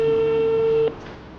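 A single steady outgoing-call tone on a telephone, loud and close, holding for nearly a second before cutting off to quiet background hiss.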